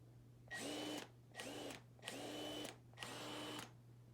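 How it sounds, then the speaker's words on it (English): Earthquake XT battery impact wrench running unloaded in four short bursts, each a high motor whine of about half a second with brief pauses between, close and clear. "This is actually my very first battery impact wrench that I've bought."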